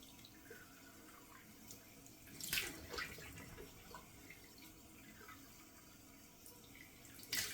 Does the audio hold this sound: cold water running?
yes